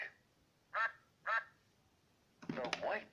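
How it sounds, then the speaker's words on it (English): Two brief quacks from a Chicco talking farm toy duck sound a moment apart, fairly close, followed by a voice speaking. "The yellow duck."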